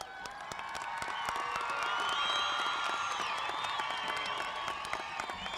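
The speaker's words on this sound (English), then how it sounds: "Please give them a round of applause." A crowd applauds at the Fordson High School 2019 commencement ceremony, sustained clapping mixed with cheers and scattered whoops that swell and hold for several seconds.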